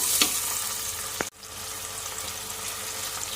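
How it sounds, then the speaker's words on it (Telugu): Chopped onions hit hot oil in a cooker for a dried prawn and jackfruit curry, producing a loud, continuous close-up sizzle with a brief clatter and a momentary dropout before the frying hiss resumes. "ఇప్పుడు మనం ఇందులో ఉల్లిపాయ ముక్కలను వేసుకుందాం."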